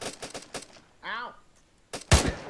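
SA-80 rifles crack out in quick sharp bursts during jungle platoon training drills, several shots close together early and again near the end, with a short shouted voice in between.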